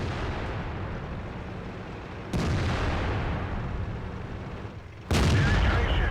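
A WZ-131 tank gun fires twice in World of Tanks on the Fisherman's Bay map, each a loud, sudden broadband blast about three seconds apart over a steady rumbling ambient bed.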